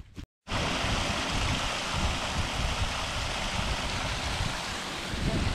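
Water rushes steadily over rocks in a hillside stream near abandoned ruins at Balintore, Scotland, a loud continuous close-up roar after a brief silent gap at the start.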